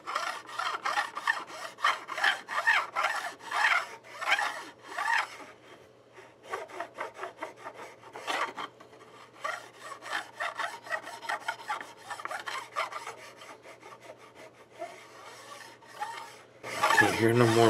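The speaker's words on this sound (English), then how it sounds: "I'm gonna hit that with a file here and get rid of it" A metal file rasps back and forth in steady strokes over a sharp fret end on a Fender Nashville Players Series Telecaster, close and fairly loud, pausing briefly midway before resuming with quicker rubbing.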